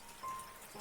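Light drizzle begins to fall, a faint, soft, continuous patter of raindrops with a gentle hiss and one slightly louder drop near the end, and no voices.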